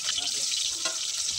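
Rupchanda pomfret fish fries in a wok with a dense, steady sizzle of hot oil and a faint stir partway through, heard up close.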